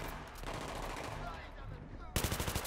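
Rapid automatic gunfire in Battlefield 3, a sharp burst of evenly spaced shots near the end, preceded by a quieter stretch of distant crackling battle noise.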